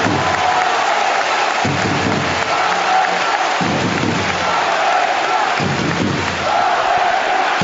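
A large arena crowd at a Eurocup basketball final roars in a sustained ovation, a dense continuous wall of cheering and applause heard at a distance, with faint swells and no clear individual voices.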